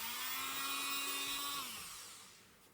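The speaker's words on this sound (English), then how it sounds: "And we'll get the holes drilled." A drill bores holes through a resin craft piece: a loud, close, high-pitched whirring whine that holds steady for over a second, then drops in pitch and fades as the bit spins down.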